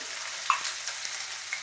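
Onion and green chilli sizzle in a hot pan with garam masala, a steady hissing fry close by with a few faint stirring clicks, no voices.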